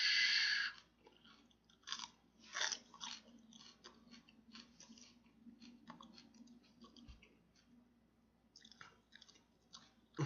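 Close, quiet chewing and crunching of a vegan Boca patty and peas, with soft irregular bites and mouth clicks and no talk.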